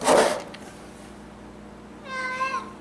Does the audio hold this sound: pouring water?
no